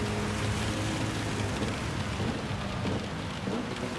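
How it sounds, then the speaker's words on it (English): Heavy rain pours down steadily, a dense unbroken roar of drumming water with a low rumble underneath, constant in level throughout. "Heavy, heavy rain."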